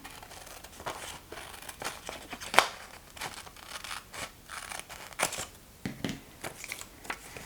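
Scissors snipping through paper while cutting out a piece for a junk journal flip book, a steady series of crisp, close cuts with small rustles in between.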